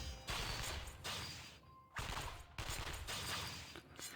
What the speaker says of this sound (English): The sounds ring out continuously, as if a battle is taking place nearby.